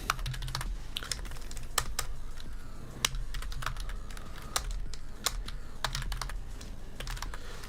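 Fingers type on a new computer keyboard, giving a quick, uneven patter of close, crisp key clicks with a few sharper taps, steady and continuous with no talking.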